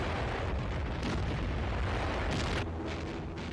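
A World War II German 88mm Flak anti-aircraft gun firing in coastal defense: a loud, sustained booming roar of gunfire and blast with rolling rumble, no voices.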